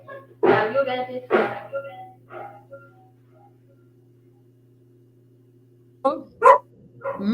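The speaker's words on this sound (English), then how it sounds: "until I get my dogs to keep quiet" Dogs barking at home, two loud close barks followed by a softer one, a long quiet stretch with a low hum, then a burst of three more sharp barks.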